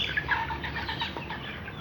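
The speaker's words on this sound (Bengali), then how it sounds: "এখানে মুরগি আছে ফাওমি মুরগি অস্টালপ মুরগি" Fayoumi and Australorp chickens on a poultry farm cluck and chirp steadily in a busy, close chorus with some wing flapping, and nobody speaks.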